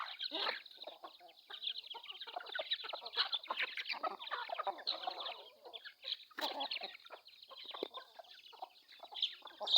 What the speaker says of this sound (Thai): เป็นไก่ต่อพี่น้องเลย